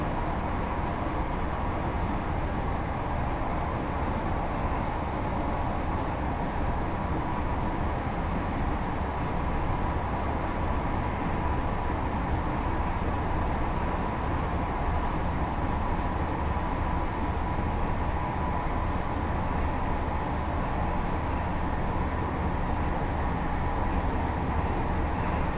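A train running on the Midland Main Line in Train Sim World 3, a steady continuous rumble and hum of the moving train at around 70, unbroken and even for the whole stretch.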